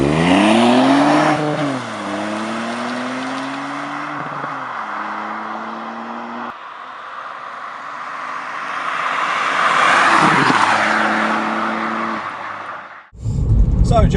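A 2018 Ford Fiesta ST3 passes close by, its engine note rising with clear gear-change pitch shifts, swelling as it nears and then fading away, followed by a brief rumbling thump at the end.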